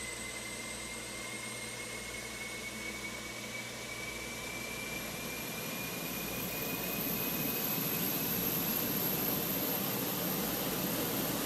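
Airliners sit at the gate in Microsoft Flight Simulator, their jet engines making a steady broad roar with a thin high whine that slowly rises, growing a little louder toward the end with no talking.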